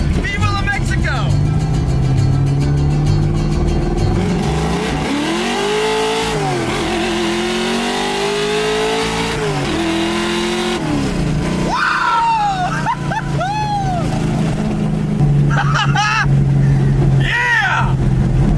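A 1965 Ford Mustang called 8-Ball, running a stock driveshaft and axles, accelerates hard in first gear. Its loud engine roars and climbs in pitch through long revving sweeps, with excited shouting voices over the noise.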